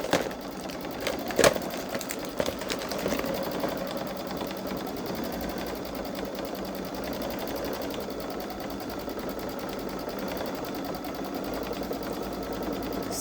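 A Babylock Solaris Vision sewing machine stitches an edge-to-edge snowflake quilting design, giving a steady, moderately loud mechanical hum and rattle that runs unbroken, with a sharper click near the start.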